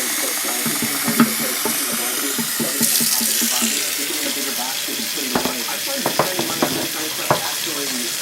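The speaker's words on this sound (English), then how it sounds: "So I got the water running right here. It is hot water." Hot tap water runs steadily into a pot at a kitchen sink, a continuous rushing splash with a few sharper clinks and knocks of the pot near the end.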